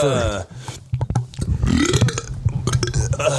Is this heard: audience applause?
no